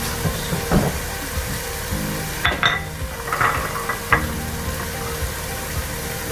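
Spice powders are stirred into sautéed tomato masala for chicken tikka masala, with a light sizzle under clattering utensil scrapes and a few sharp knocks against the pan.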